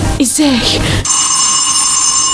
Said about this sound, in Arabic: ده جرس الباب